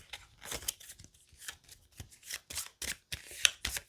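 Everdell board game cards being shuffled by hand, a quick run of crisp riffling bursts close up, with brief pauses between them.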